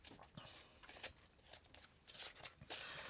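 Pandemic board game infection cards being shuffled, a quiet papery riffle of repeated soft bursts over about three seconds with no talking.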